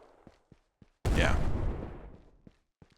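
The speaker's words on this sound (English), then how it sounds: "Wait, was that a fence blowing up? That big explosion there?" A fence blows up with a sudden, loud, close explosion in a tactical shooter video game, with a long rumbling decay. It follows and is followed by sparse, sharp clicks and small pops.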